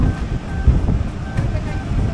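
Large surf waves roll onto a tropical northern shore in Aurora Province, heard as a loud, continuous low roar mixed with heavy wind buffeting the microphone, with voices talking over it.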